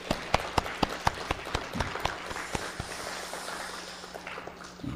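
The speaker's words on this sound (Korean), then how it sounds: "우리 박수 한번 격려 한번 하겠습니다." A church congregation applauds, with a few sharp individual claps standing out early against softer scattered clapping in a reverberant hall, the applause thinning toward the end.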